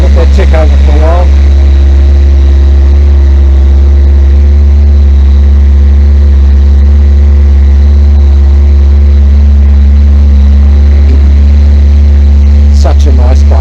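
A carbureted Honda Blackbird motorcycle ticks over at a steady idle with a loud, constant low hum, close and unbroken, with a brief burst of sharper engine noise near the start and again at the end.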